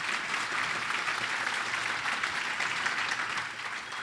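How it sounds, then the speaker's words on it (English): Audience applause at a political campaign event, a dense, even roar of many hands clapping that holds steady for the full four seconds with no speech over it. "Give them a round of applause, would you please?"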